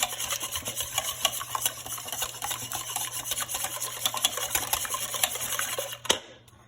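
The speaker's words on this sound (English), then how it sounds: "We're going to whisk those up. You don't need to use a mixer, just a whisk, hand whisk." Eggs beaten by hand with a wire whisk in a bowl for a pumpkin dump cake, giving quick, rhythmic scraping strokes that continue steadily and fairly close, then stop abruptly near the end, with no talk.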